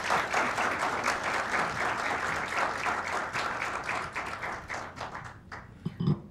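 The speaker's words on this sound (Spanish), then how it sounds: "la recibimos con un fuerte aplauso" A large audience applauds to welcome a speaker at a lecture on cultural policy. The clapping is loud, dense and sustained, then thins out and fades near the end with a few scattered claps.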